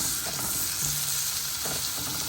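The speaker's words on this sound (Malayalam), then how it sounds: "നമ്മുടെ സോസിലേക്ക് കുറച്ച് ക്രീം ഒഴിച്ചു കൊടുക്കുക." Mushroom sauce for steak sizzles steadily in a pan as cream is poured in, a dense, even frying hiss with a brief low hum and a few soft stirring knocks.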